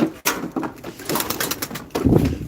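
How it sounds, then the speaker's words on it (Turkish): Pigeons coo in low, throaty bursts, several overlapping calls close by amid broadband rustling and fluttering noise. "Her yerde kuş dolu."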